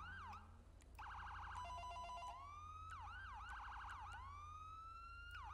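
A police siren from the Luxart Vehicle Control game mod cycles through its primary manual tone, a loud electronic wail that sweeps up and down with rapid yelping bursts and continuous tones, steady and close with no talk.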